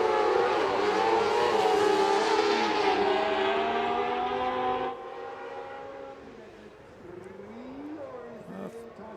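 Rallycross cars at Valkenswaard qualifying heats revving hard and racing past in a loud, dense engine roar that shifts pitch, then fades to more distant engines, with a commentator talking over it.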